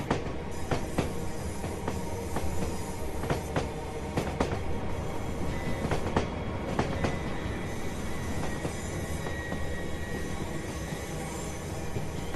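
A Class 805 Evero electric train from Train Sim World 6 runs steadily through a busy London Euston, a continuous rolling rumble with scattered sharp clicks and clanks from the wheels and track.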